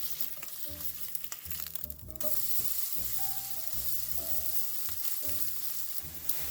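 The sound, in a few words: food sizzling in a pan until crispy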